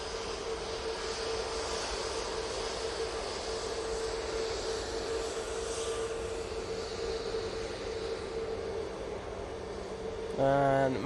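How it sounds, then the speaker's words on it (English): A Jet2 Airbus A321 jet at Manchester Airport gives a steady, broad engine roar that holds at a constant level throughout, with a strong steady tone running through it and a brief louder burst near the end. "Coming on next, we have a Jet2 A321."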